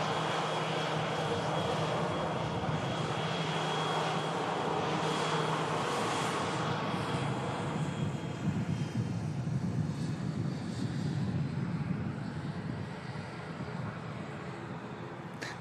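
Aircraft engines rumble at Manchester Airport, a loud, continuous broadband roar with a high whine that swells and then slowly fades as the plane moves off.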